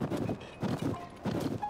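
Horse hooves clip-clop faintly in Zelda: Tears of the Kingdom, three soft paired groups of steps in an even walking rhythm.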